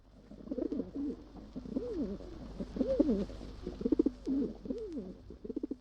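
A US Army messenger pigeon coos in a series of low, throaty, rolling phrases, close and fairly loud, with short pauses between bursts and a faint background hum.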